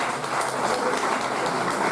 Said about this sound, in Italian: un applauso a Lucia